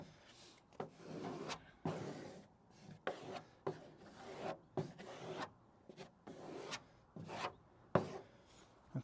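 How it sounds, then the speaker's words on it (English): Protective film peeled slowly back from a Cybertruck panel, a series of soft tearing, rubbing strokes about once a second, close and fairly quiet with no talking. "I'm just going to peel it back, and then just kind of work it up like that"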